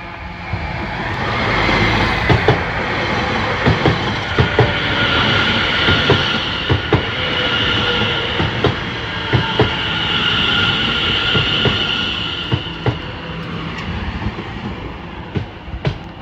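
A Greater Anglia class 720 electric multiple unit, number 720556, pulls into Cheshunt station on a Stratford service, giving a steady close rumble with repeated wheel clicks over rail joints and a rising hiss of braking.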